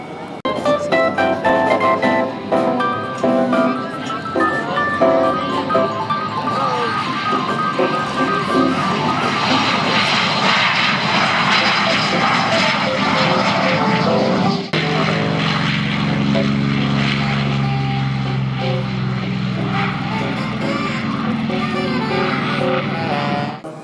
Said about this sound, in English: Looks like both the propeller aircraft and the jet are taxiing out to the runway.